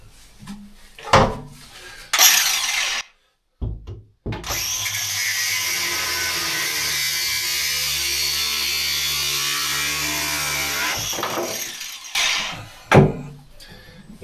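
A power tool grinds through aluminium fittings on an old boat, running in a long loud steady whine after a few short bursts and a brief pause, then cutting off with a few clunks of handling.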